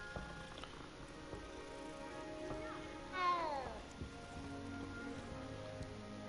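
Cats meowing in the Hogwarts Legacy video game: one short, clear meow rises midway over a faint, steady patter of rain, quiet and somewhat distant.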